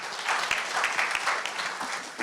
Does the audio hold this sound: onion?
no